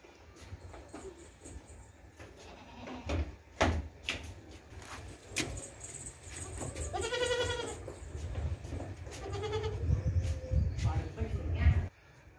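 Goats and their young kids bleating repeatedly at close range on a farm, with rustling and knocks around them and someone talking over parts of it.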